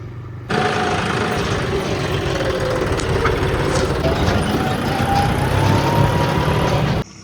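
A tractor hauling gravel drives along a rural road, its engine giving a steady, loud rumble that holds for about six seconds before cutting off abruptly, with no voices over it.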